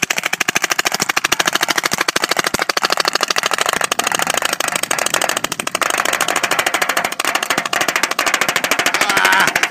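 An airsoft gun fed by a Rap4 box magazine drive fires in rapid continuous bursts, a dense mechanical rattle of shots close and loud without pause.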